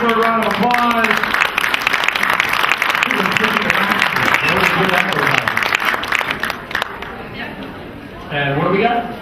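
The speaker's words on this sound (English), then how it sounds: "Give her a round of applause." Audience applause for a gift certificate winner at a live event: dense crowd clapping rolls on for several seconds, thinning out toward the end as people talk over it.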